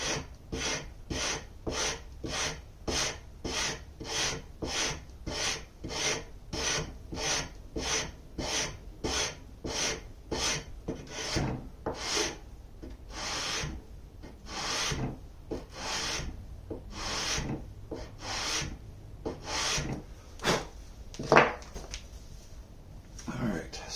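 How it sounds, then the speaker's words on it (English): A piece of wood from a handmade mandocello being hand-sanded with 120-grit sandpaper: steady, rhythmic rasping strokes, close and fairly loud, about two per second, becoming slightly slower and more uneven toward the end. "120 grit sandpaper will do a pretty good job of smoothing that right out"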